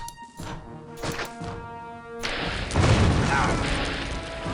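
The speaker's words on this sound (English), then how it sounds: "explosions" Explosions in the Caesar 3 city-building game sound as a few booming thuds over game music, then a heavier rumbling burst that lingers to the end.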